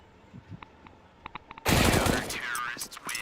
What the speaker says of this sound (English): The final frag comes in and Deception goes down